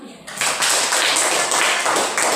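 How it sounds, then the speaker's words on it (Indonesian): Schoolchildren in a classroom clap their hands together, a fairly loud, close burst of dense claps that starts abruptly and keeps going with slight swells in intensity. "Ya, tepuk tangan"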